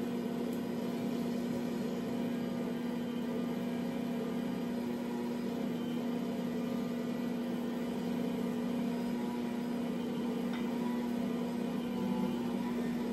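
A stand mixer runs steadily on low speed while kneading bagel dough, giving a constant motor hum with a strong steady tone and no pauses.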